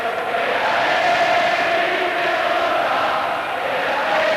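Large stadium crowd chanting in unison at a 1987 rugby union test match between Australia and Argentina, a dense, steady roar with a sustained sung tone carrying throughout, loud and unbroken.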